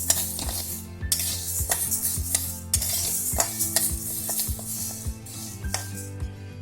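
Lentils dry-roasting in a pan, a rattling rustle of grains with frequent spoon scrapes and knocks against the metal, close and fairly loud, no voices.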